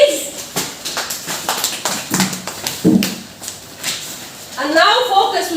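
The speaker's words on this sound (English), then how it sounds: "Clap yourselves, please." Children in a phonics class clap in a short burst of irregular hand claps, fairly close, followed by a teacher's voice speaking.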